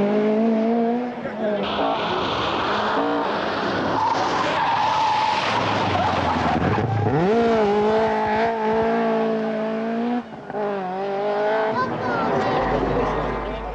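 A rally car skids hard on a stage of the 1986 British Midland Ulster Rally, its engine roaring and rising in pitch as the tyres scrub loudly throughout, with a voice talking over part of it.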